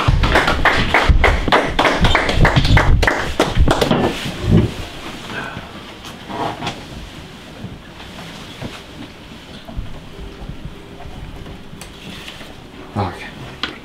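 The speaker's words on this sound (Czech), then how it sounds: "Poprosím potlesk." A small outdoor group claps for the second-place winner at a shore mackerel fishing competition. A short burst of brisk, close claps in the first few seconds fades into quiet, scattered handling noises and a few light taps.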